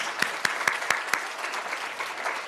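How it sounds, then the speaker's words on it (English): Audience applause at a live surgery lecture event, a sustained patter of clapping from a crowd in a hall with a few sharper claps standing out early, steady and moderately loud with no talk over it. "Please give a big round of applause."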